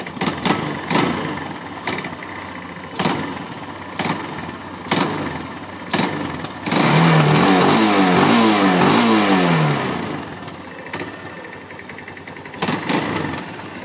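A carbureted Kawasaki ATV engine idles with sharp throttle blips, then revs up hard in a sustained rising and falling run before settling back to a lumpy idle with a few more quick revs, loud and close.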